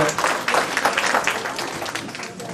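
An audience at a town's 2019 New Year greetings event claps together, a dense steady applause close by.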